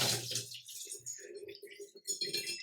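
Soaking water is drained off urad dal soaked for an hour, heard as a close, uneven trickle and gurgling pour in short spurts.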